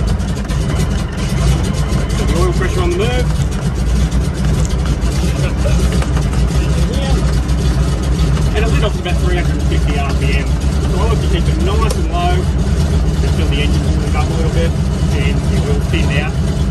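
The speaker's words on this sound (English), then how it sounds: "Without moving the throttle position, gentle increase from that 350 RPM up to, we're at 560 now." A De Havilland Beaver aircraft engine runs steadily just after start-up, idling as the revs rise gently. Its low, continuous drone fills the whole stretch while a voice talks over it.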